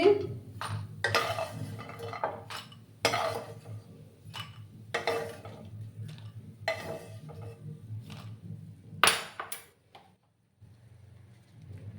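Metal utensils scrape and clink against a pan and bowl as fried lentil dumplings are lifted out, a string of separate close knocks and rattles over a low hum, then near silence.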